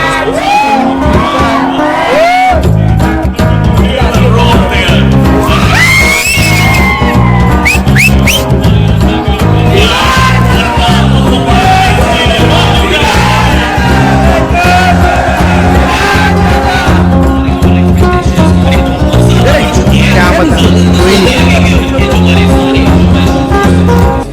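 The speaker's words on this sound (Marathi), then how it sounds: "नुसता जल्लोष चाललाय इकडे, सगळेजण आवाज करतायत" Loud crowd cheering, whooping and shouting fills a packed creators' meetup in Worli, sustained throughout over pounding music with a steady beat.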